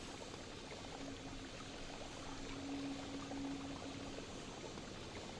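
Liquid poured from a flask in the video game Noita, a quiet, steady trickling pour that runs for several seconds with a faint tone swelling in the middle.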